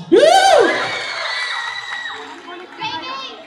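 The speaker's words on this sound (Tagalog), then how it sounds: "Example nga ng palakpakan dyan." A crowd of children at a shopping mall event shouts and cheers loudly, with one high whooping voice rising above, then the noise fades into scattered calls.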